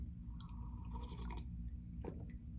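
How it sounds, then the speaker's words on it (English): A person takes a quick sip of water, with faint wet slurping and swallowing sounds over a low background hum, close and quiet. "I'm just taking a sip of water real quick."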